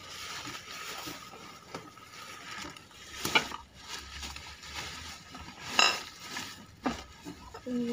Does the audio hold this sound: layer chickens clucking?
no